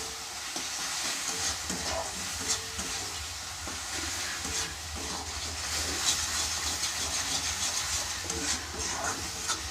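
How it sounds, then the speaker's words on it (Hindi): Dal masala with turmeric powder and salt frying in a pan for dhaba-style mixed dal tadka, giving a steady close sizzle with occasional scraping stirs throughout, no talk. "अब अच्छे से फ्राई कर लेंगे।"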